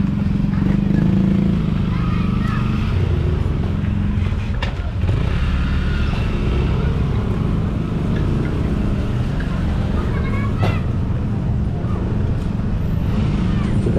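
Enduro motorcycle riding along, a steady low engine drone running throughout with faint shifts in pitch, accompanied by people talking over it.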